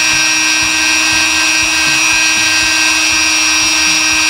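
Rotary polishing tool grinding coating off a handgun feed ramp, a loud constant high-pitched whine with small rhythmic bumps in tone as the bit is worked against the metal.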